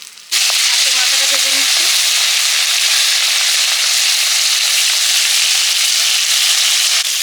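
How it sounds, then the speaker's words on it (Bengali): Hilsa fish heads fry in hot oil in a home kitchen, a loud, steady sizzle that starts abruptly and holds evenly for several seconds with no talking. "মাছের মাথাগুলো ভাজা হয়ে গেছে ইলিশ মাছের মাথা"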